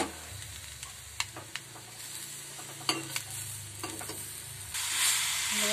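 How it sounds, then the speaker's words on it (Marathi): Jaggery melting with grated coconut in a pan, stirred steadily with a spoon: a continuous soft sizzle and frying hiss, punctuated by several sharp scrapes and clinks of the spoon against the pan, no voices. "आपल्याला एकदम व्यवस्थित पातळ होऊन घट्ट होईपर्यंत हलवत राहायचंय।"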